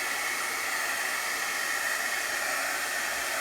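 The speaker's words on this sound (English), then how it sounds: "I'm going to do some heat setting quick with my heat tool" A heat tool heat-sets stamped ink on a handmade card, blowing a steady, loud, hair-dryer-like rush of air and hiss that stays unchanged throughout, with no talking.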